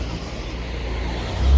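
Cars passing on a street at night, a steady close wash of tyre and engine noise that swells into a loud low rumble as one vehicle nears at the end.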